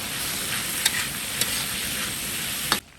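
Beef pieces going into a hot pan with chopped chili paste, a steady loud sizzle with a few sharp clinks of stirring that cut off abruptly at the end.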